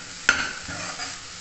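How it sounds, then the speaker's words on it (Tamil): Chopped cauliflower and green peas being stirred together in a hot pan, one sharp close scrape of the spoon followed by a lighter second stir under a low, steady sizzle, with no voices. "இதையும் நல்லா சேர்த்து வதக்கிக்கிடுவோம்."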